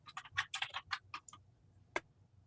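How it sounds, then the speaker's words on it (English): Loud computer keyboard typing from an unmuted participant on an HF amateur radio tech net call: a quick burst of close keystrokes, a pause, then a single sharp keypress, with a low hum underneath. "someone's typing was really loud"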